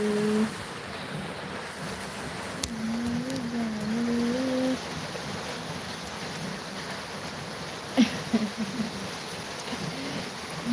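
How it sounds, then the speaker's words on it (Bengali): Heavy rain pours down outdoors in a steady, dense wash of broadband noise, with a faint tonal hum underneath and a couple of brief louder knocks near the end; no one speaks. "বৃষ্টি পড়ছে প্রচুর, জানি একটু আওয়াজে তোমাদের অসুবিধা হচ্ছে"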